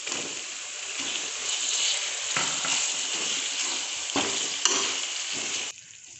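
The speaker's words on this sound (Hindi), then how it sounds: "अब हम इसमें टमाटर डालकर इसको गला लेंगे।" Tomatoes frying in a pan with onions and garlic paste for a fish salan, a steady loud sizzle and crackle with occasional stirring scrapes, close up and without talking.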